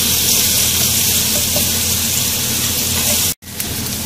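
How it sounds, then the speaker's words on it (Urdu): Chopped onions frying with spices in a pan produce a continuous loud, close sizzle that breaks off for a moment near the end and then resumes, with no talk. "اور اس پیاز کو ہم اس مسالے کے ساتھ فرائی کریں گے۔"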